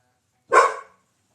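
A dog gives a single sharp bark, close and loud, set off by fireworks outside, alone against otherwise quiet surroundings.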